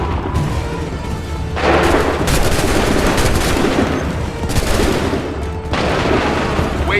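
Musket volleys in the video game Assassin's Creed 3, dense bursts of loud gunfire and booming in waves with short lulls between them.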